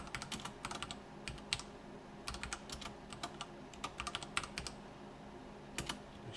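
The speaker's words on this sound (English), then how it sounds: "Make sure I'm typing okay." Quiet, steady typing on a computer keyboard, irregular clusters of soft key clicks with brief pauses, close and alone while code is entered in Unreal Engine.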